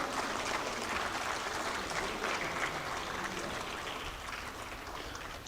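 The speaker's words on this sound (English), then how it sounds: "A big round of applause for the school children for encouraging them" An audience at a school valedictory function claps for the schoolchildren, a soft, steady, rain-like wash of applause heard from some distance and fading slightly.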